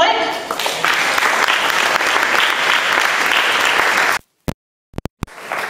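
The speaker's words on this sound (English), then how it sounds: "help me introduce him with a round of applause, Dr. Blake" A live audience gives a loud, sustained round of applause for the nutrition speaker Dr. Steve Blake at a talk, the dense clapping filling about four seconds before cutting off abruptly, followed by brief scattered noises.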